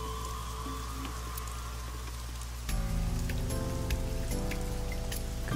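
Steady rainfall in the video game AI: The Somnium Files, an even patter of drops under game music that grows fuller halfway through.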